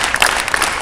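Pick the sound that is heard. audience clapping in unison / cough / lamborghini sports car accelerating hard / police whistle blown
audience clapping in unison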